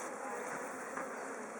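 Honeybees buzz in a dense, continuous drone during an open hive inspection, close and steady throughout with no talking.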